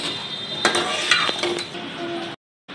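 A spoon scrapes and clinks against a metal pot while gobi gosht, a cauliflower and meat curry, is served out, giving a few sharp metallic knocks close up before a brief cutoff.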